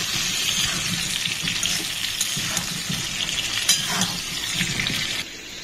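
Pointed gourd (patol) pieces fry in oil in a pan, giving a steady hissing sizzle with occasional stirring scrapes and clatters, close and continuous before thinning slightly at the end.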